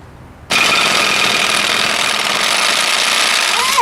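An Earthquake XT impact wrench at its maximum setting, working loose a rusted nut, cuts in abruptly and keeps up a loud, steady hammering buzz for several seconds close by, with no one talking over it.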